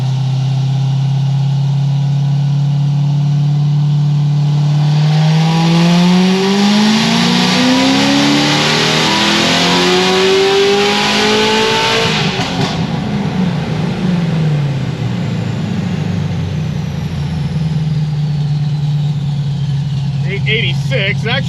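A Corvette C6 ZR1 making over 900 rear-wheel horsepower on a 52% ethanol blend runs on a dyno: a loud idle climbs into a long, rising full-throttle rev, then falls back to a steady idle.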